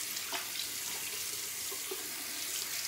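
Tap water runs steadily into a sink as face cleanser is rinsed off, a continuous close hiss with faint splashes and no talking.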